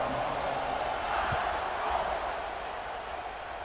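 A stadium crowd in College Football 26 roars steadily before a kickoff, a broad, sustained wash of cheering with a commentator's voice faintly underneath.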